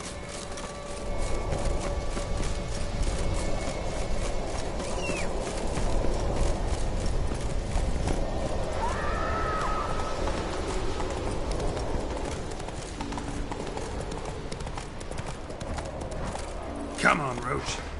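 The horse Roach gallops in The Witcher 3, a steady rapid clip-clop of hooves running for a long stretch under game music and a voice, with a brief sharp sound near the end.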